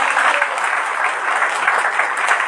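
Church congregation applauding loudly at a foundation day service, a dense, steady wash of clapping that stays strong and even for the whole stretch with no voices over it.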